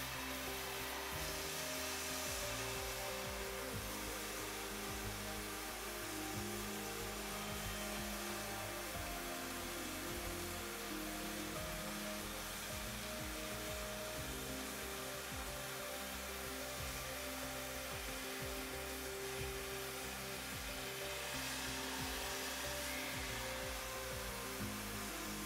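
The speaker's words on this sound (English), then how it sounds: "Cut your workpiece by operating the cutting oxygen lever." A ProfiCut oxyfuel hand cutting torch slices through a metal workpiece, giving a loud, steady roaring hiss that runs unbroken and alone throughout.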